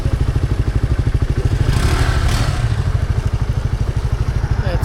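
A group of four motorcycles idling and rolling together on a ride, a steady close, loud chugging engine pulse with a brief swell of revving in the middle and no talk.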